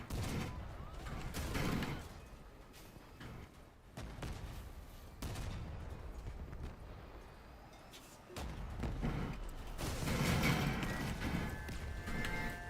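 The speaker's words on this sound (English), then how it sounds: "some Helicon bot's gonna shoot me" Gunfire from a hostile Helicon bot in a video game, heard as repeated bursts of shots and crashing impacts in several clusters, fairly loud over a busy game soundscape.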